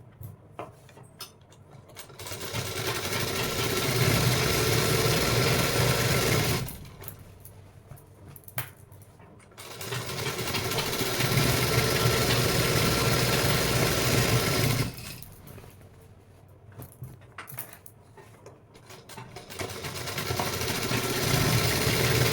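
A sewing machine stitches a finishing seam on ladies' pants, running in three long, loud whirring bursts separated by brief pauses filled with quieter clicks and handling.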